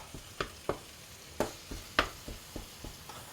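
Sharp metallic scrapes and chops against a frying pan, chopping food for cauliflower-béchamel lasagna, about ten irregular strikes over a faint sizzle, fairly quiet and close.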